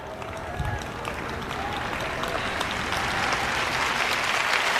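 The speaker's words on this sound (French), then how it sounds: "Vous n'êtes pas enthousiasmé, mais vous applaudissez au moins." A church congregation applauds during a French-language sermon, a broad wash of clapping that swells gradually and grows louder across the clip, with a voice faintly present underneath.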